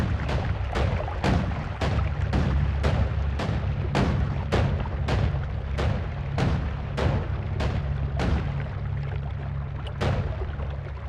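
Explosions in the video game Noita go off in a steady string of sharp, booming blasts about every half second, loud and close, with no talk.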